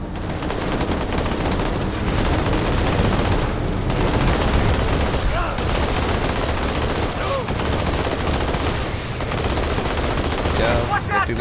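Loud, sustained automatic gunfire and explosions from the Halo 2 Anniversary campaign, dense bursts running nearly nonstop with brief lulls, heavy and close throughout.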